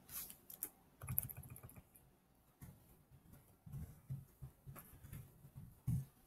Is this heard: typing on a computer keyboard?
yes